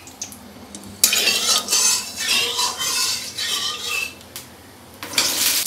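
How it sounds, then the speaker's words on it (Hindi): Pointed gourd (parwal) frying in a pan in a home kitchen, stirred with a metal utensil that scrapes and clatters in loud, irregular bursts over a soft sizzle, with no talking. "अब चलते जल्दी से परवल फ्राई कर लेते हैं"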